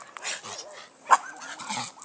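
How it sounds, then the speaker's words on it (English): One of three dogs in a countryside garden barks once sharply in the middle, with softer yips and whimpery dog noises around it, fairly close outdoors. "So this is what we get. Barking dogs."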